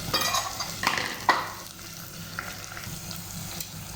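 Sautéing for adobong sitaw, Kapampangan style: a steady close sizzle of frying with scraping stir strokes and a few sharp clinks near the start, then a quieter settled crackle, with no talking.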